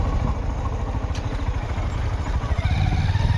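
A motorcycle engine rumbles steadily while riding on a trip to Machal in the Konkan hills, a close, continuous low throb with a slight clattering texture throughout.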